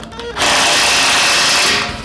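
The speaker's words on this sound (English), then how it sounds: "I'm just going to drill that one size bigger." A power drill bores out a hole one size bigger while building a waste oil boiler stove, a loud steady whine lasting about a second and a half after a brief quieter start, fading at the end.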